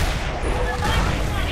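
Dense gunfire in Gears of War 3 during a ranked King of the Hill match on the Drydock map, a continuous loud roar of overlapping shots and blasts with talking mixed in.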